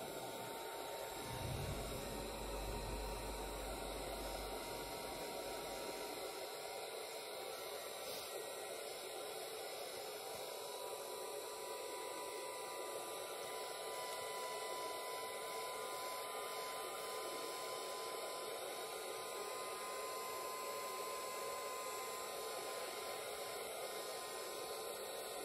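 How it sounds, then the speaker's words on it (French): A heat gun runs on a low setting for crafting a jumbo card, giving a constant, faint whooshing hum with a soft airy hiss that stays steady throughout, alone and without talk. "on va mettre le heat gun en route"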